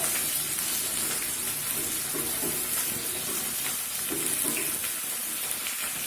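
Two chopped onions frying in a pan for chicken gravy, giving a steady loud sizzle with some stirring and scraping, continuous and close with no talk.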